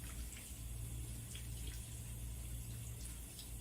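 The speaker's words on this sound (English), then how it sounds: "Make sure you also rinse your denture." Tap water runs steadily into a sink while a denture is rinsed, a continuous close hiss and splash with a low hum underneath and no speech.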